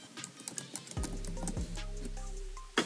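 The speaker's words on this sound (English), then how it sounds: "In the second box, type in the password" Someone types a password on a computer keyboard, a quick patter of soft, close key taps, with a low steady hum underneath during the second half.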